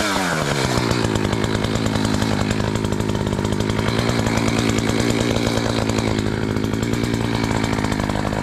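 A chainsaw limbs the branches of an overgrown tree, running loud and steady at high revs after a brief rev-up, the close engine drone continuing without pause and with no talking.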